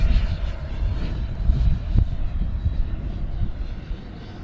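An RC foam jet with a 105mm ducted fan on 12s power passes overhead, giving a steady, broad rushing whoosh that holds loud through the pass and eases slightly at the end, with no talk.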